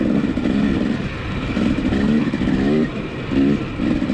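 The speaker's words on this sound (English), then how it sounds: "I think I have about 3 hours on this new KTM at this point, so I'm really still not accustomed to how this bike throttle responds" KTM dirt bike engine during a motocross race, the Frostbite GP in Odessa, Washington, rising and falling in repeated throttle bursts, close and loud with a raspy tone.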